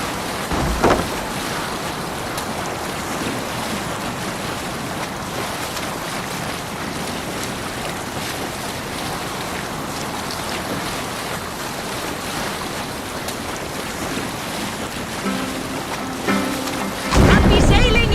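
Sailing ship cutting through ocean waves in a Viking-era video game, with steady broadband wash of water and wind throughout and a louder surge near the end.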